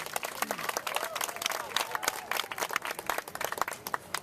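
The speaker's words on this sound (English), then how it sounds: "How about a round of applause for our hardworking hemo attendants?" An audience at an evening Hawaiian luau on Oahu claps and cheers for the attendants of the imu underground oven, dense steady applause filling the space at close range.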